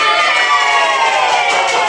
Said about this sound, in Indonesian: Tepuk yang semangat buat kita semuanya.